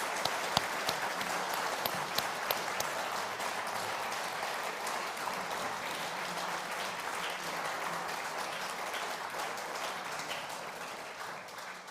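An audience applauds after the Darwin Day Lecture 2022: dense, steady clapping from a crowd that fills the whole stretch at an even level, with no voices over it.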